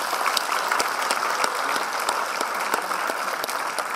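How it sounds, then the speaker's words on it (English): An audience at a school event applauds the faculty with dense, sustained clapping from a sizable crowd, steady and loud throughout. "Let's give them a round of applause."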